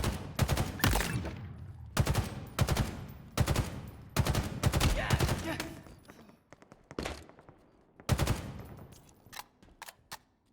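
Rapid automatic gunfire from a multiplayer video game shooter, loud close bursts repeating in clusters every second or two, with short pauses between volleys and a voice talking over some of it.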